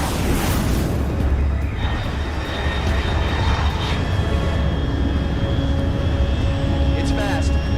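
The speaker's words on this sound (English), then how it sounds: "Unidentified aircraft detected." Fast unidentified aircraft roaring overhead in MGS Delta: Snake Eater, a loud, continuous jet rumble with a sweeping whoosh early on and steady tonal engine whine throughout.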